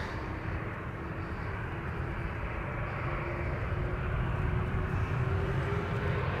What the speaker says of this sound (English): Turkish Airlines flight 1952 to Istanbul up first. A330-300, 10 years old